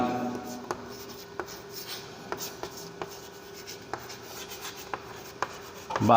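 Chalk or marker writing on a board during a class 11 physics lesson, with soft rubbing strokes and a series of sharp taps spaced about a second apart, close and fairly quiet, a voice briefly heard at the end.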